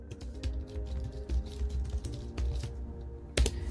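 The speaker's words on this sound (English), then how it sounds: "I'm going to type that in here." Fingers type on a computer keyboard in a short run of close, quiet key clicks with uneven rhythm, ending in a slightly louder keystroke near the end.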